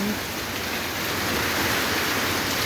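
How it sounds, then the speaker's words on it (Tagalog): Steady, heavy rain with wind pours down as a dense, continuous hiss, loud and close with no pauses, and no voices. "Sana huminto na yung hangin at ulan."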